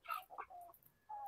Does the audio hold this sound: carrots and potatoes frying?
no